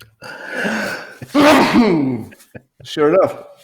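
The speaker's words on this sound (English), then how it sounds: "I think I'm going to sneeze in a minute" A person sneezes once, loud and close, with a sharp gasping intake leading into the burst; brief speech follows afterward.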